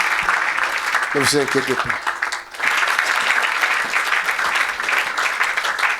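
A church congregation applauding, a steady, dense wash of clapping from many hands that carries on throughout, with a voice speaking briefly over it.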